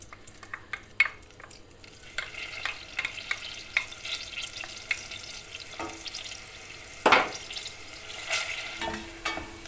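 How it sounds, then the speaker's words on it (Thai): Chopped onion frying in melted butter in a pan crackles with a soft sizzle, broken by scattered clicks and scrapes of stirring, close and moderately loud, without speech. "ตอนนี้เนยก็ละลายแล้วนะคะ แล้วก็ตามด้วย หอมใหญ่เป็นหอมใหญ่สับนะคะ"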